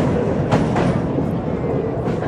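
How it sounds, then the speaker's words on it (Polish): A narrow-gauge railway train rides the tracks near Ełk in Masuria, with a steady, close rolling rumble and a couple of brief clatters from the wheels throughout. "Przejażdżka kolejką wąskotorową powoli dobiega końca."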